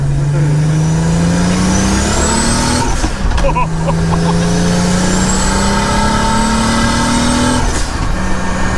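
A 550 hp VR-engine-swapped Audi 100 accelerating hard, its engine pitch climbing through the revs, cutting at a gear change and rising again, loud and close inside the car under intermittent talk.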